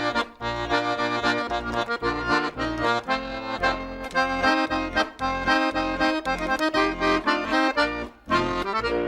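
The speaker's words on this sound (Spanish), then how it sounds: "¿Cómo suena una polca? Una polca suena así," Polka rhythm played on an instrument in a brisk 2/4 pulse, with bright, busy chords and a steady bouncing bass alternating beneath, fairly loud and continuous with a brief break near the end.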